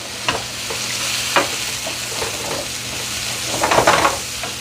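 Mushrooms sautéing in a pan for a stuffed-shells and zucchini-eggplant dish, a steady close sizzle with occasional stirring scrapes and light utensil clinks, no talking.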